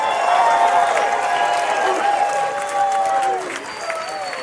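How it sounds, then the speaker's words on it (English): An outdoor rally crowd in DC applauds and cheers, continuous clapping under rising whoops and voices that ease off toward the end. "Give yourselves a round of applause."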